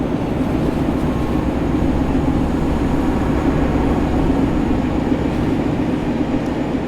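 Czech class 750 diesel locomotive running on the Liberec–Stará Paka line in Train Sim World, a steady, loud, close engine rumble and rolling drone that holds even throughout with no voices.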